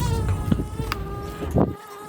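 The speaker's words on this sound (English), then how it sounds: "it does sound like there's a rather distressed bee somewhere in the bus" A bee's buzzing inside a bus shelter over steady strong wind and background rumble, rising and falling in brief bursts, fairly close.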